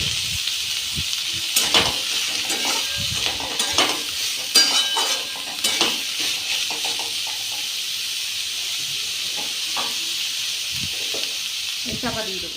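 Onions fry with salt in a pan for a chicken curry with potatoes, a steady close sizzle broken by repeated clatters and scrapes of a utensil, with faint speech here and there.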